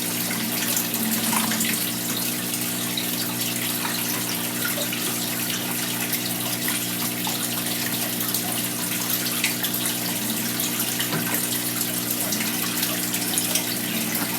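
Steady rushing flow of water being drained out of a saltwater aquarium during tank maintenance, a continuous close gush with a low humming undertone throughout, no voices.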